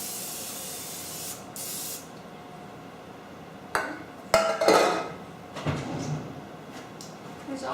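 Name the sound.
cooking spray sprayed on a pan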